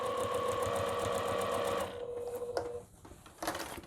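A sewing machine runs at a steady, fast stitching rhythm while sewing a curved seam on a bag, then stops and leaves a few faint handling noises, all close by with no talking.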